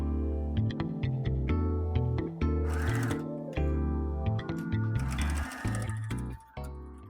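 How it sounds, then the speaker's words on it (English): A sewing machine stitches along the sides of silk robe fabric, running in short loud bursts of rapid mechanical clatter separated by brief pauses, close to the microphone. "Now I have to stitch the sides."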